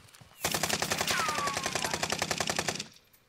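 Automatic gunfire in the Warzone video game, one sustained burst of rapid shots lasting about two and a half seconds, loud and close, with no talking over it.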